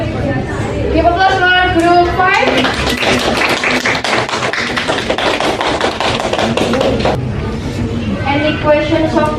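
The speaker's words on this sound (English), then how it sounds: "Give applause for group 5." Classroom applause breaks out for a student group during a trigonometry peer-teaching revision session, a burst of brisk clapping from a small class in the middle, with talk and chatter before and after.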